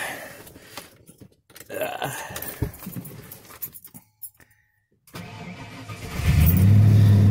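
A 12-valve Cummins diesel truck engine cold-starts after some cranking and clatter, catching and settling into a loud, rumbling idle close by.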